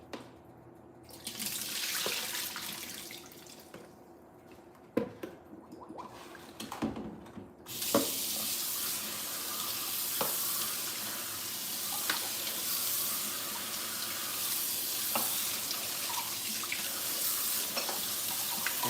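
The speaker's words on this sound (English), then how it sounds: "Make sure I rinse off everything I need to rinse off." Tap water runs steadily over food held in a strainer in a kitchen sink, a continuous close rush with a few sharper clatters and splashes early on, then an even flow without talk.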